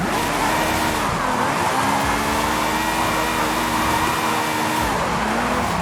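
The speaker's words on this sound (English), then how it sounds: "Let's see what we can do drifting up the volcano." A video game car drifting up a volcano road, with the downforce removed, drones with a sustained revving engine whose pitch dips and climbs again as it shifts and slides, loud and close throughout.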